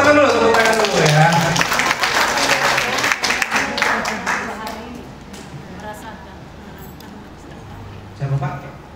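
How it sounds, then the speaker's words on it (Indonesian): Applause from an audience at a product presentation, a dense burst of clapping for the first few seconds that fades away, with a voice talking over it and again near the end. "tepuk tangan dulu ya"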